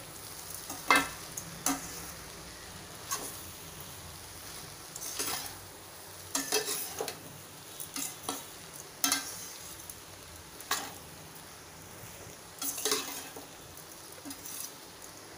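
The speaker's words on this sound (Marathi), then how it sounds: "आता हे मी आधी मिक्स करून घेते" Poha with onion and potato is mixed in a pan over low heat, a soft background sizzle broken by a dozen or so irregular scraping and clinking spatula strokes, no voices.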